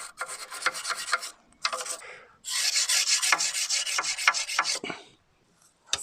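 Small hand wire brush scrubbing loose paint and corrosion off a part from a 1971 Toyota Celica TA22 cooling system, in close, rough rasping bursts of quick back-and-forth strokes with brief pauses between.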